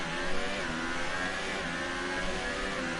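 A racing car engine in a German GP round of a racing video game, a loud continuous high-pitched mechanical whine holding steady with slight revving as it works down the gears.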